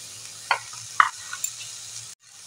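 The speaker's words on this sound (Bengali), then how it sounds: "এইভাবে নাড়াচাড়া করতে করতে এবার একটু গ্যাসের ওভেনটা কমিয়ে দিয়েছি" Vegetables stirred in a pan on a gas stove, a quiet steady sizzle with a few distinct scraping knocks of the spoon against the pan, fairly faint and close.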